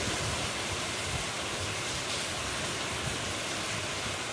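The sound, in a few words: heavy rain and wind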